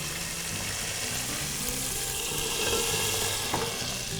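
Continuous bubbling sizzle from a pot of meatball yogurt soup, steady and close, with faint clinks now and then.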